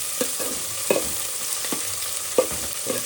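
Puffed rice mixture roasting in a pan with coriander, with sharp stirring scrapes every half second or so over a low sizzle, close and alone.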